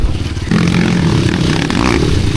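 A motorcycle climbs a steep muddy dirt trail, its engine revving loud and close with a steady low drone, rising throttle and scraping clatter throughout.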